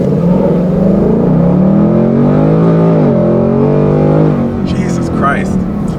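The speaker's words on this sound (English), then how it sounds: "I'm just gonna floor it" A 2018 Ford Mustang GT automatic accelerates at full throttle, its V8 drone climbing steadily in pitch from inside the cabin, loud and continuous, with a brief voice toward the end.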